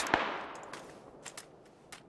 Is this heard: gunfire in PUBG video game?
yes